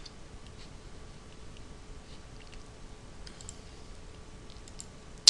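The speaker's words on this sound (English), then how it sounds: "we'll go back into the spreadsheet and we'll type in 234" A few soft keystrokes tap a number into a spreadsheet on a computer keyboard, faint and sparse over a quiet room hiss, with a louder click at the very end.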